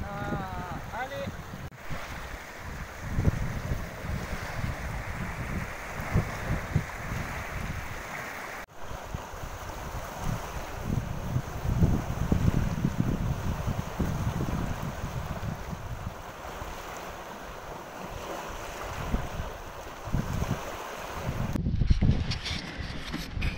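Strong wind buffets a seaside camp near Dakhla, roaring in a steady low rumble with gusty surges and microphone buffeting, occasional faint voices underneath.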